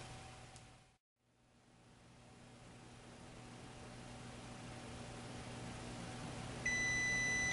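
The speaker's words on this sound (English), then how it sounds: "so our timer's going off." A kitchen timer beeps with a clear electronic tone near the end while chickpeas roast, over a constant low hum and hiss from the oven, with no talking.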